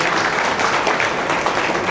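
An audience at a bar association training camp for notary advocates claps loudly, a dense, continuous burst of applause that fills the short moment without a break.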